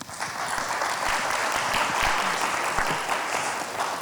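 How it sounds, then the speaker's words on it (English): A conference audience at Belmont Abbey College welcomes a speaker with sustained, dense applause, a steady wash of many hands clapping at moderate volume throughout, with a few louder claps standing out. "I've never received an applause before starting, so thank you."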